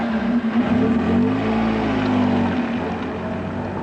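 A car on a test drive, engine droning loud and close as it accelerates, its pitch sweeping up and settling into a steady run with road noise underneath.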